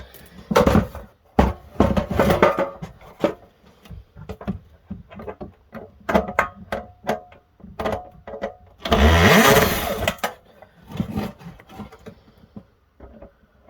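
A cordless drill with a Phillips bit buzzes in short bursts and one longer whir as screws are backed out of a toaster, with clicks and handling noises between.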